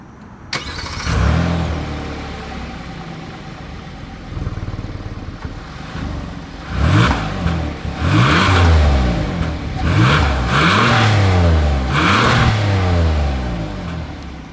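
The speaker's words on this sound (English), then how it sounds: "As always, here is that exhaust clip." A 2025 Hyundai Palisade SUV starts up and revs several times, its exhaust note rising and falling in repeated bursts after a steady idle, close and loud with no talk.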